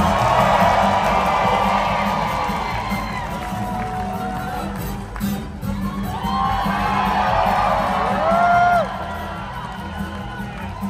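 A large arena crowd at the Dolly Parton Stampede dinner show in Pigeon Forge, Tennessee cheers and whoops continuously during a riding contest, a loud, dense roar with shrill shouts rising and falling throughout.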